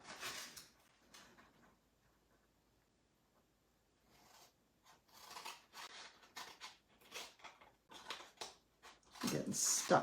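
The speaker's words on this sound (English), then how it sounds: "Long cuts work best, as I found on the other side, but these scissors need to be sharpened." Dull scissors make short snipping and crunching cuts through material for an Easter basket, arriving in irregular bursts close by with quiet pauses between them.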